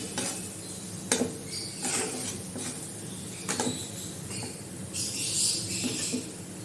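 A spoon stirs spice paste in a pan for rohu fish curry, giving soft scraping and occasional clinks over a low sizzle, with a brighter scraping burst near the end.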